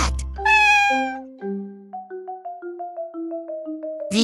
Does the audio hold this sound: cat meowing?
yes